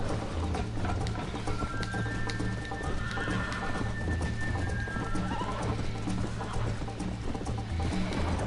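In the Red Dead Redemption video game, a horse whinnies while its hooves clip-clop steadily, set against a dense low in-game background.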